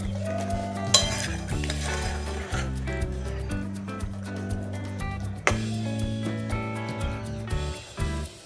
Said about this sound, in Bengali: এবার বাঁধাকপি পিসগুলি ঝোলের মধ্যে দিয়ে দিচ্ছি।